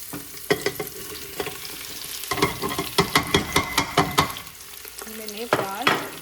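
Onions go into a hot tadka with curry leaves and ginger in a pressure cooker, sizzling loudly while a spoon scrapes and stirs in repeated strokes, close up, with no talking.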